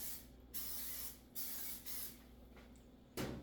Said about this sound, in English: Probably didn't even have to spray it.